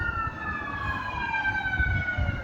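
An ambulance siren passes along a city street near a park, its steady wailing tones sliding gradually downward as it goes by, loud and continuous over a low rumble of traffic.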